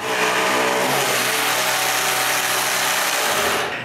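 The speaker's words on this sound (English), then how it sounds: "I trace the wheel shape and cut it with my longest jigsaw blade" A power jigsaw with an extra-long blade cuts a wheel shape from wood for a moveable workbench, a loud, continuous buzzing whine that holds steady and cuts off at the end.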